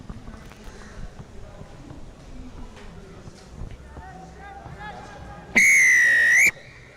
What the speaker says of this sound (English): that's the kick-off whistle